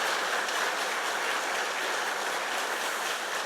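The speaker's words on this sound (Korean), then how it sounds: "우리 함께 감사의 마음을 담아서 이분들께 박수하면 좋겠습니다." A church congregation applauding together in thanks, steady dense clapping filling the room without pause, fairly distant and even, with no voices standing out.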